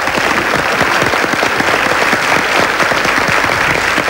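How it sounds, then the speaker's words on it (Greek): A TV studio audience breaks into sustained, loud applause for a cook, dense clapping filling the room steadily from start to end with no voices standing out. "Παρακαλώ, ένα χειροκρότημα για το Σταμάτη."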